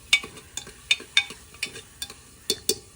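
Tomatoes frying in a pan on a wood-fired clay stove: a soft, steady sizzle under a run of sharp, irregular clicks as a spoon stirs and scrapes the pan, close up and with no talking.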